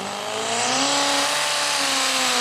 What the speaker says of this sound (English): He's got a good fight off the line, right to the top of his RPM